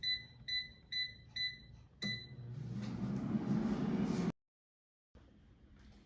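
A run of short electronic beeps from an air fryer set to 400 degrees Fahrenheit for frozen calamari, then a steady fan whir that cuts off abruptly, leaving near-silence and a faint hum.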